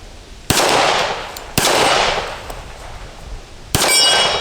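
Remington R1 1911 pistol rounds striking swinging steel targets outdoors, three sharp metallic clangs with ringing decay, spaced about a second or two apart, loud and close with no talk.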